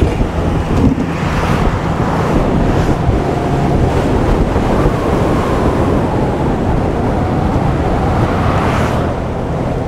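Strong, constant wind roar buffets the microphone while riding a HUCK electric motorbike at 47 mph on a long road, loud and unbroken for the whole stretch.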